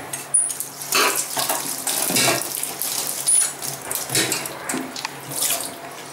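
Sweet potatoes are washed by hand under a running kitchen tap, with a steady close hiss of flowing water and splashing and rubbing as they are turned.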